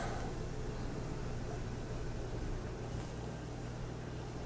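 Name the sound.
Shiner Oktoberfest beer being poured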